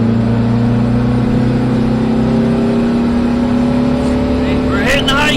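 A VW Type 3 engine running 93 octane fuel with slightly retarded timing pulls steadily under acceleration on a back road, a loud sustained drone holding its pitch, with a brief shift of tone near the end.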